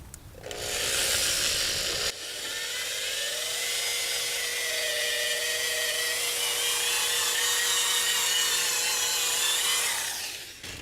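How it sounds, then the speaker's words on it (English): An old power drill spins a polishing pad loaded with polishing compound against a plastic car headlight, giving a steady, close whirring buzz with a rubbing hiss that runs continuously for about ten seconds after a brief start. "I'm going to take my old drill and my polishing pad, and I'm going to put some polishing compound on there."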